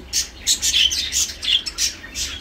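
Lutino Japanese budgerigars chirp rapidly and continuously at close range, with bright repeated tweets and short squawks and no talking.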